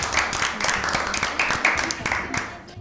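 Clapping for a correct answer at an Easter Bible quiz show, a dense run of hand claps mixed with voices throughout, moderately loud and close.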